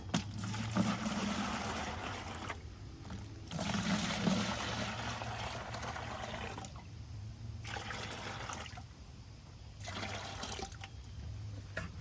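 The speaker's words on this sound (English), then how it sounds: "So I'll take the water and I'll split it between 2 buckets." Water pours steadily into two buckets for mixing tile thinset in several long bursts with short pauses between, a sloshing fill heard up close with no voices.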